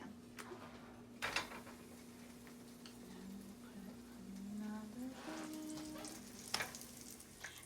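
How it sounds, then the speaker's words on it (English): Chebureki frying in an oiled hot pan, a steady low sizzle with a few sharp clatters and pops, moderately near and fairly quiet, with no talk. "we're gonna throw it in the hot pan, and we just put oil on the pan"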